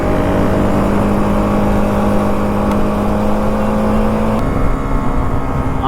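Superbike engines rev steadily with a loud, continuous motor drone and a sustained engine tone that shifts pitch near the end, with no talking.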